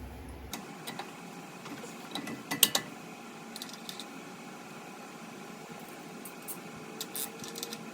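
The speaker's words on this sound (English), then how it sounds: "I grab my 21mm socket and start tightening these down." A ratchet with a 21mm socket tightening tie rod and drag link bolts on a Jeep Wrangler JK, soft clicking and mechanical ticking at close range, with a few brighter metallic clinks.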